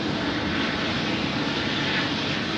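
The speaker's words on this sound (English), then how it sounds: "listen to those engines scream" Loud, steady roar of jet airliner engines at full takeoff power on a wet runway at Sydney Airport, a broad sustained rumble and whine that stays close and constant throughout.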